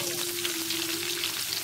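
Garlic hits a hot frying pan as bagoong is sautéed with tomato, producing a loud, continuous crackling sizzle with a faint steady hum beneath.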